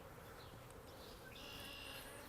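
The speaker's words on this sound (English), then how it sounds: "Bees and all." Honey bees buzzing steadily during a beehive split into five-frame nucs, a dense continuous drone of many insects close by with no talking.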